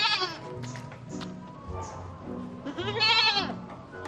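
Goat bleating nearby, several wavering nasal cries in quick succession with a longer loud bleat near the end, fairly clear against a quiet background.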